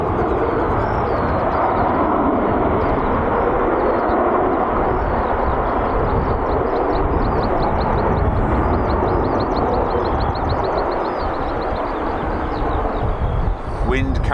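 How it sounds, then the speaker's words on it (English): A Delta Airbus A330neo's thrust reversers roar on landing, heard as a loud, steady broadband rumble that is carried on the wind and holds for the whole stretch, with faint voices underneath. "Wind carrying the sound of the reversers on that delta perfectly over towards me."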